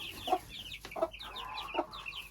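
Broody silkie hens cluck inside a henhouse: a close, agitated run of short clucks at a steady, uneven rhythm, with a soft squawk in between.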